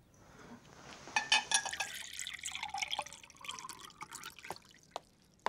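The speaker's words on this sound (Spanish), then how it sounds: "Te voy a servir un poco de agua." Water is poured into a glass for someone to drink, a soft trickling and dripping that swells briefly and then fades into scattered faint drips, quiet and close.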